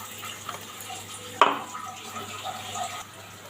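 Water splashes onto soaked lentils in a pot, a short gushing pour with a sharp onset, then a softer trickling wash that fades.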